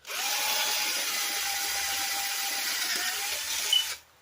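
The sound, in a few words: power drill drilling holes in a chain guard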